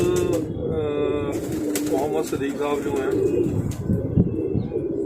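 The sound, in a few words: pigeon cooing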